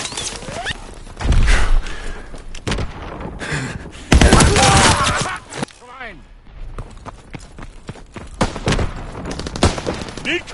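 Gunfire in a WW2 video game: rapid rifle and machine-gun shots crack close by in scattered bursts and volleys, with shouting voices mixed in among the shots.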